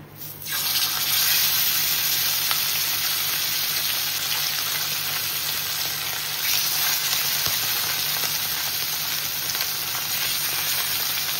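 Marinated fish drop into hot oil, setting off a sudden loud sizzle that holds as a dense, even hiss of frying close by, with no talk.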